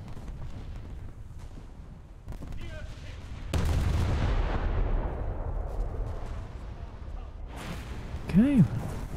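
The naval guns of the USS Newport News fire a salvo in the War Thunder naval game. A sudden heavy boom breaks in partway through and rolls on as a long, loud rumble, with smaller thuds before and after.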